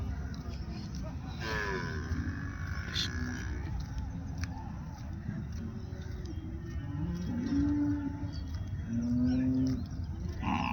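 Cattle moo at an outdoor livestock market, a few drawn-out calls rising over a dense background of crowd murmur and chatter, with people talking nearby.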